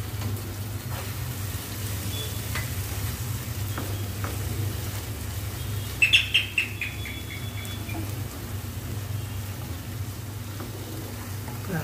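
Three spoonfuls of ground masala paste fry in a pan with a continuous sizzling hiss, broken around the middle by a few quick metallic clinks of a spoon; no voices.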